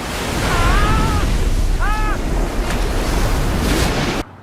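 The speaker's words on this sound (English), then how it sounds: "He turns on a tap and water pours down." Water pouring heavily from a turned-on tap, a loud continuous roaring rush with a few short whistling tones over it, cutting off abruptly at the end.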